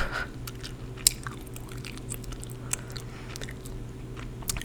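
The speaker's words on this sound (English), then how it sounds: "Just gonna chew some gum and whisper about nothing" Gum being chewed close to the mic in a quiet ASMR setting, soft repetitive wet smacks and small clicks at a steady pace over a low constant hum, with no talking.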